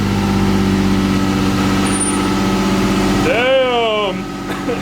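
A Toyota MR2 engine idles with a steady, loud low drone right after a cold start, then quiets slightly near the end as a voice speaks briefly over it.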